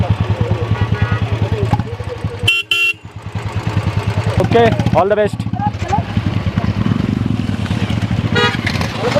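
Motorcycles of touring bikers from Kerala idle and rumble up close near Zojila pass, with several loud horn toots cutting in, under nearby conversation.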